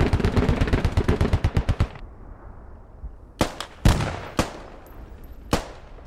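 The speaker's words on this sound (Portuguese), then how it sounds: "comecei a atirar nele com a ponto 50." A .50 caliber machine gun fires in a video game simulator: a fast, loud burst of evenly spaced shots for about two seconds, then a few separate heavy single blasts spaced apart after a short pause.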